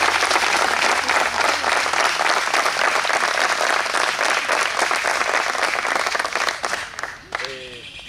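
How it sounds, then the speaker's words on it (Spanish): Loud, sustained applause from a large crowd, dense clapping that carries on steadily before tapering off at the end. "Démele a ellos un fuerte aplauso, pero no con tacañería."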